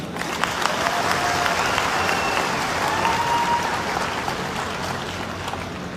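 An indoor audience at a business seminar in Haridwar breaks into loud, sustained applause, a dense even rattle of clapping that holds steady for several seconds without talk.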